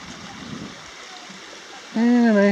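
Steady, faint rushing of a creek near Marlette Lake, Nevada, flows throughout, heard from a small bridge, and a person starts talking over it near the end.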